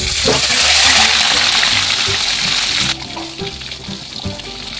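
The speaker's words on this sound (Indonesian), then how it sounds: "Oke, sekarang aku akan goreng sisanya." Fish fries in a non-stick Teflon pan with a steady, loud broadband sizzle that eases a little partway through, with faint clinks of handling underneath.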